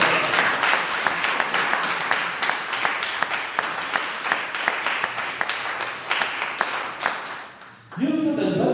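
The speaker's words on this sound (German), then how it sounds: "Klatsch für Jesus Christus, er ist allmächtig" A congregation at a healing and deliverance church service in Düsseldorf claps steadily and loudly for several seconds, then the clapping drops off and a voice comes in at the end.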